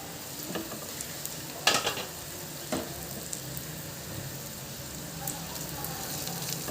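Cracked eggs hitting spiced masala in a hot pan for an egg roll filling, with a sharp burst of sizzle and a couple of clattering stirs, then a softer steady frying hiss; no one speaks.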